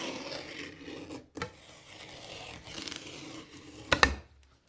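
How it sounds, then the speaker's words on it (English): A blade scores wood veneer in a few short, close rasping strokes, quiet scraping passes separated by brief pauses, ending with a sharper scratch. "it'll probably take 2 scores to cut through the veneer."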